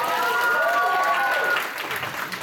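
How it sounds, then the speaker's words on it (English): A convention panel audience at PortCon Maine claps and cheers for Funimation in a dense burst that gradually thins, with a few whoops and voices rising over the clapping. "So give Funimation a round of applause, guys."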